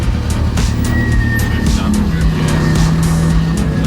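Rally car engine running steadily from inside the cabin, a loud continuous drone with shifting tonal whine, while people talk over it.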